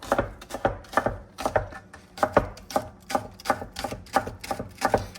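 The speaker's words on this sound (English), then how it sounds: "we're gonna get the green onions cut" A knife chops whole green onions, whites and greens, cutting them small on a board: a steady run of about sixteen crisp, close thuds at a quick, even rhythm, with no talk.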